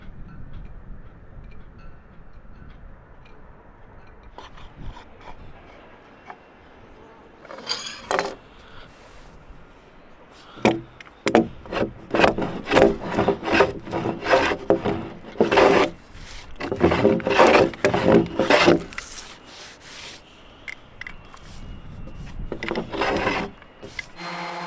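Wooden boat hull surfaces being prepared before launch, rotten wood ground out and planed, heard as close rasping, scraping strokes that start sparse and then turn into dense, loud bursts of rough abrasion, with no talking.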